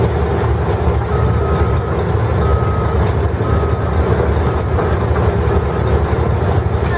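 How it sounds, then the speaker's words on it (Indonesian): A toy mining truck runs with a steady mechanical drone and rumble, punctuated by repeated electronic beeps, continuous and close without pauses. "Wow, yang ini truk tambang teman-teman."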